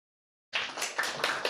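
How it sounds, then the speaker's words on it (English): A small audience at a literary reading breaks into faint, scattered clapping after silence, with a few uneven bursts of hand claps. "The claps are better than silence."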